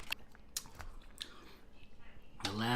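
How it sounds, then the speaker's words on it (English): Crispy air-fried pork belly skin crunched between the teeth, with a few sharp close bites and chewing noises, followed by a voice at the end. "I crunch every time"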